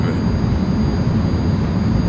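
The jet engine of a JAS 39C Gripen runs in a flight simulator, giving a loud, steady, low roar with a constant high whine over it.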